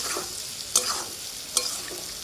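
Amla boiling in a pan, stirred with a spoon: a bubbling sizzle underneath, with two sharp scraping strokes of the spoon against the metal.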